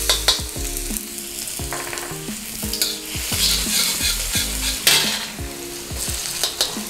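Garlic sizzling in one to one and a half tablespoons of hot oil on high flame for hakka noodles, a loud steady crackle close by with a few utensil scrapes and clinks, no talking.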